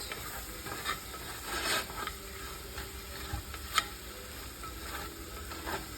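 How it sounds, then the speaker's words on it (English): Stock is stirred into spiced chicken carbonara in a pan, with soft, steady sizzling and faint scraping stir strokes at a close distance and no talking. "You put some stock in here and you mix it."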